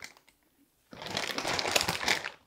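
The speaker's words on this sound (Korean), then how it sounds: "한번 끓여 먹을 수 있는 분량씩 지퍼백에 넣어주세요" A plastic zipper bag crinkles and rustles close up for over a second as blanched cabbage greens coated in soybean paste are packed into it, following a brief quiet pause.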